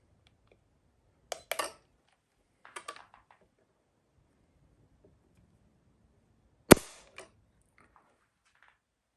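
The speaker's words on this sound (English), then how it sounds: "Let's go do a trigger pull here on the Henry." On a Henry .44 rifle, a few small, sharp mechanical clicks come from the trigger and hammer, close and quiet. A brief pair of taps is followed later by one crisp snap, with near silence between.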